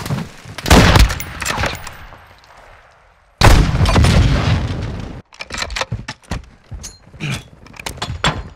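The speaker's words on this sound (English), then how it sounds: "Hostile mortar strike near your position." Mortar strikes in a first-person shooter game land as heavy booming explosions, two long rumbling blasts followed by a rapid string of sharper cracks and bangs, loud and close.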